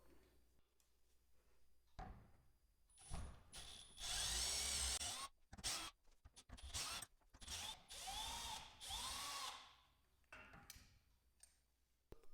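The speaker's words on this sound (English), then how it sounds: "I'm going to carefully use a drill with a socket just to speed things up" A power drill with a socket whirs in short bursts, with clicks and metallic rattles between runs as garage door hinge bolts are driven, close up and fairly loud.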